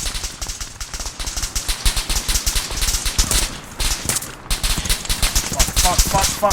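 Light machine gun fire in the video game Arma 3, rapid rattling bursts and overlapping shots in dense, uneven volleys, loud and close with brief gaps between bursts.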